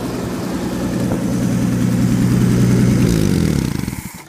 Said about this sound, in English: it's an old gas engine out of a 1960 Ford truck